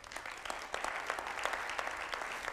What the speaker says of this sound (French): Je vous propose de l'applaudir.